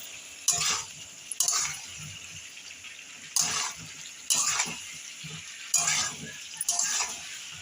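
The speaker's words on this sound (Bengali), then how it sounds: "তেলটা ছেড়ে এসেছে এবার একবার আমি নেড়ে দেবো" Oil sizzles steadily in a pan with cauliflower pieces while a utensil stirs in repeated bursts, about six scraping, crackling strokes spaced roughly a second apart.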